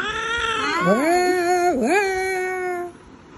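A pet cat gives loud, drawn-out meows close by while being fed cat food, two long wavering cries that rise and dip in pitch, fading out near the end.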